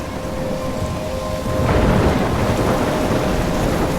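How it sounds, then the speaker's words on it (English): Steady heavy rain pours in a Life Is Strange storm, with a deep rumble of thunder swelling midway and lingering under the downpour; no one speaks. "I'm trapped in a storm?"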